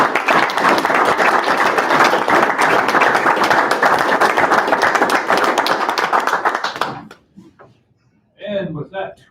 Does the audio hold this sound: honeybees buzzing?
no